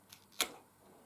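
A single sharp click as the battery tab at the top of an Oreck Magnesium RS upright vacuum handle is pulled, preceded by a faint tick, in a quiet room.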